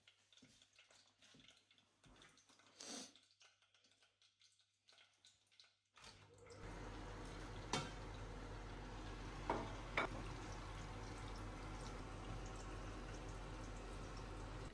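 Onions, tomatoes and chillies drop into hot oil while cooking mutton curry, and a steady loud sizzle starts partway through and holds to the end, with a few sharp pops over it after quieter handling sounds at the start.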